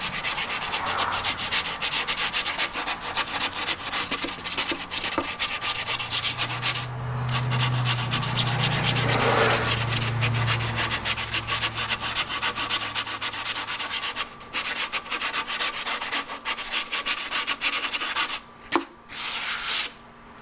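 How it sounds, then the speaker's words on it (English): Continuous rough scraping of sandpaper rubbed back and forth on wood, close and steady, with brief pauses near the end. "I will sand it, and that's easy to do."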